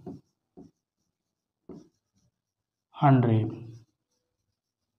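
Chalk or pen writing numbers during a Hindi-language class 6 math lesson, a few short scratchy strokes spaced apart before a teacher speaks briefly.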